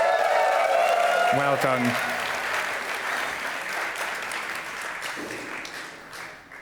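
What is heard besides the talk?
audience applause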